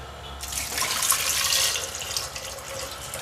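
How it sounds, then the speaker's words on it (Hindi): Water pours into a pot holding about half a kilo of potatoes set to boil, a steady splashing rush that starts after a brief pause and continues close and fairly loud to the end, with no talking. "ये गिलास पानी डाल दिया है"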